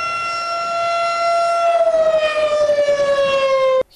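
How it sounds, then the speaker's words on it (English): A steady, loud outdoor civil defense warning siren wails on a single sustained tone, sliding slightly lower before cutting off abruptly at the end. "The EMA is responsible for the emergency alert and outdoor siren"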